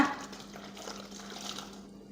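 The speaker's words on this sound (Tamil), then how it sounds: "வெதுன்னு இருக்கிற சூடான தண்ணியை காளாவில் இது மாதிரி சேர்த்து கொடுத்துக்கோங்க" Warm water poured into a pan of mushrooms in a home kitchen, a soft, steady wash of liquid close by and fairly quiet, running evenly without speech.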